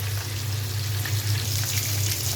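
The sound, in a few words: fish frying in a pan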